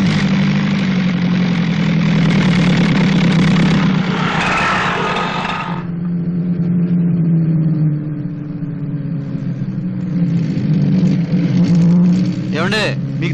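An old car's engine idles roughly and a little noisily, a steady low rumble running throughout with a brief rising rev near the middle, while people talk over it.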